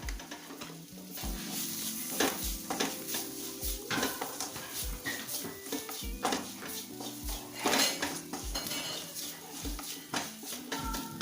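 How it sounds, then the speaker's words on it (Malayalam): Green chillies being stirred and fried in a pan for a beef boti fry, with a steady sizzle under repeated clinks and scrapes of a spoon against the metal, close and fairly loud throughout. "പച്ചമുളക് നല്ല നന്നാക്കി മിക്സ് ചെയ്തെടുക്കണം"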